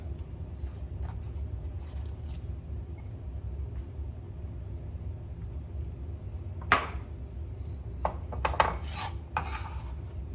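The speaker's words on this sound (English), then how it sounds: "I'm going to put my onion in this bowl here" Chopped onion tipped into a kitchen bowl while making Caribbean rasta pasta, giving a brief scrape and a couple of soft clattering knocks over a steady low background hum.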